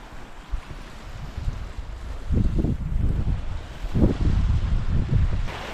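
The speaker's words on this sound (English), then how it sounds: "Wind is picked up already." Wind gusting beside Abraham Lake in winter, buffeting the microphone in low rumbling bursts that swell and fade over a steady airy hiss, with no voices.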